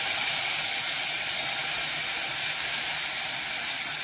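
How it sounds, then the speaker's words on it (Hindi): Yogurt spooned into a hot pan for a quince and brinjal curry, giving a steady, loud broadband sizzle and hiss that holds evenly throughout with no voices. "मैं इसमें दही भी डालती हूँ"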